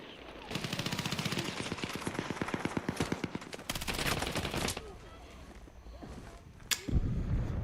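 A submachine gun in Battlefield 6 fires rapid, loud automatic bursts up close, several sustained strings of shots broken by short pauses, with a final sharp shot near the end.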